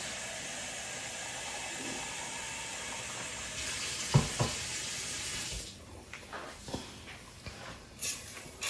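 A steady rush of running water filling a pot for curry goat, close by, ending with a few clunks and splashes as the flow stops.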